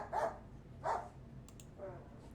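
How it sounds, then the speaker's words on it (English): Adia the dog barking anxiously, three separate barks spaced about a second apart, moderately close over a quiet background, with a faint click between them. "Adia barks anxiously, somewhere down again, attracting my attention"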